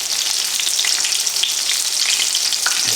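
Chicken pieces fry in hot oil at about 366 degrees for a crispy chicken sandwich, a loud, steady crackling sizzle with dense popping and no voices.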